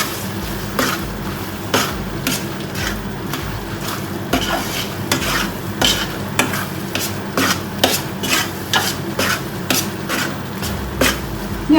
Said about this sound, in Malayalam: ഇതെല്ലാം നല്ല മിക്സ് ചെയ്ത് കൊടുക്കാം.